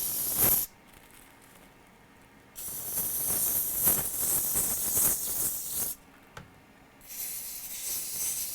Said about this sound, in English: I'm gonna spray a little flux cleaner in here